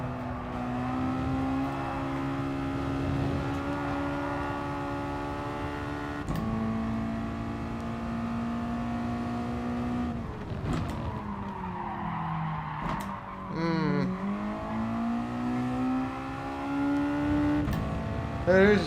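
A Mazda touring car engine in the racing game GT Sport revs steadily through gear changes, with pitch dropping and climbing again and brief tire squeal midway, moderately loud, with no talking.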